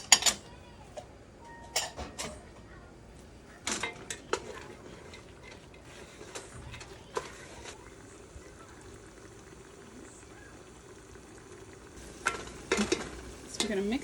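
Celery and carrots cooking down in a pot, with soft sizzling under scattered utensil scrapes and clinks against the pot, the sharpest knocks clustered near the start and end, no voices.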